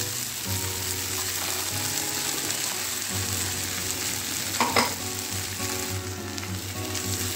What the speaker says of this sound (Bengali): খুব ভালোভাবে এটাকে নাড়াচাড়া করে নেব